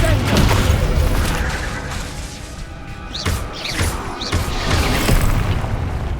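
Bombarda and Confringo spells detonating in Hogwarts Legacy combat, heavy booming blasts with crashing debris and whooshing magic, several loud bursts in quick succession amid battle noise, with character voices speaking in between.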